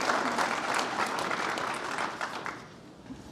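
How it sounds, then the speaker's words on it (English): A conference audience applauds a panel, with dense, steady clapping from a crowd that fades toward the end. "So a round of applause for the panel."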